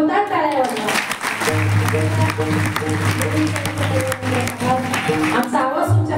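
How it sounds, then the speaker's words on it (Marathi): Audience applause at a kirtan performance, a dense steady clapping that swells and holds for several seconds, with a sustained instrumental drone beneath and scattered crowd voices. "एका जोरदार टाळ्या वाजवा."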